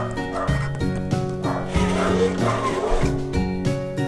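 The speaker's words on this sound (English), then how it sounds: "If you hear my pooch barking" A dog barks repeatedly in short bursts, close by, over a steady mechanical hum and some background talk.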